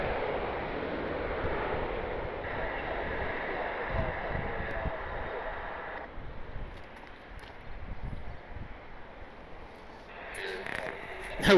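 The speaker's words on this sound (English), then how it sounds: "And an American 737 rolling out here on the runway." An American Boeing 737 from Dallas-Fort Worth rolls out on the runway at Columbus airport, a steady broad jet roar with wind-like rush that swells and eases over about eleven seconds, heard from a distance.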